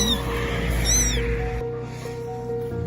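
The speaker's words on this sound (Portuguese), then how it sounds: "ouviu um gatinho chorando por ajuda" A kitten at an animal shelter cries with repeated plaintive meows, loud and close, with harmonic calls rising and falling over a dense, noisy background.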